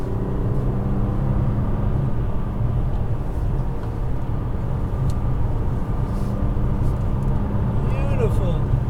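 Nissan GT-R race car accelerating hard on a track at NOLA Motorsports, its engine roaring steadily and loudly throughout, with an instructor's voice speaking over it.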